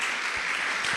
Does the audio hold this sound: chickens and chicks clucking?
no